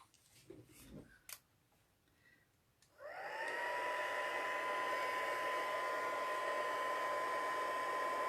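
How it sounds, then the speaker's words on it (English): A heat tool used for embossing a card switches on after a few light clicks and taps and settles into a steady, close, whining blow with a high tonal hum that runs to the end. "And the heat tool."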